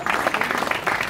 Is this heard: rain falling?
no